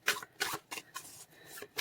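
Oracle cards are shuffled by hand in several quick papery riffling bursts with short pauses between them, close by and fairly quiet, with no speech.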